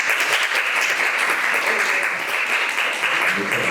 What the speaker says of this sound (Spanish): gracias por el aplauso también ahí espontáneo del público